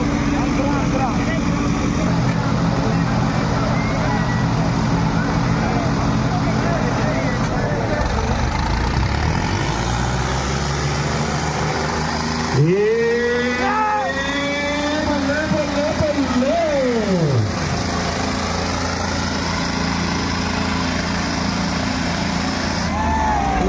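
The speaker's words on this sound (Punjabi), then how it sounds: "ਇੱਕ ਪਾਸੇ ਗੱਗੀ ਸੰਗਤਪੁਰੀਆ ਟਰੈਕਟਰ ਚਲਾਉਂਦਾ ਪੱਪੀ ਸੋਹੀ ਵਾਲਾ ਲਾਡਲਾ ਟਰੈਕਟਰ ਹੈ" A tractor engine drones loudly and steadily throughout a tractor pulling match, with a strained whining pitch that rises and falls midway, amid crowd noise and an announcer's voice.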